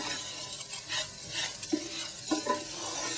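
Rice and butter sizzle in a pan for a risotto, stirred with a utensil that scrapes and taps in a few distinct strokes over a soft frying hiss, no talking.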